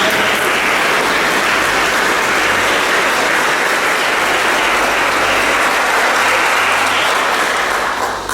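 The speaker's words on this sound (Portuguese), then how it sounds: "Vamos dar uma salva de palmas ao coral, que animou a nossa vida." Congregation at a Catholic mass applauding the choir, a loud, dense, sustained round of clapping that fills the church steadily for about eight seconds with no speech over it.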